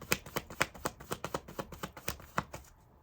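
Tarot cards are shuffled close up during a reading, a quick rhythmic series of about a dozen crisp riffling slaps that taper off and then stop, with no talking.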